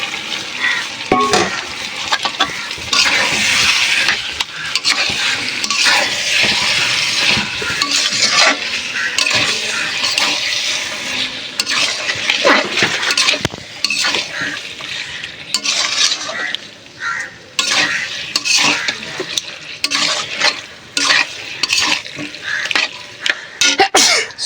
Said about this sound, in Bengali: অল্প একটু মশলা সর্ষের তেল দিয়ে মাটনটা এবার মশলার মধ্যে মিলিয়ে দেবো।